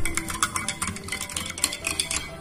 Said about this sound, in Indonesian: Nah, kemudian kita aduk-aduk sampai tercampur rata.